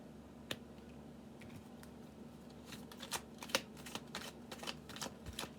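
Tarot cards are shuffled and slapped down on a table nearby in quick, crisp flicks that start sparse and grow busier and louder toward the end, with no talk.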